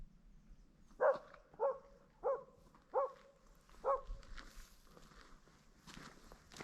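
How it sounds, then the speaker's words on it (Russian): A dog barks five times in a quiet countryside village at night, evenly spaced single barks at moderate distance, each clear against a low background hush. "никого нет, собачка лает."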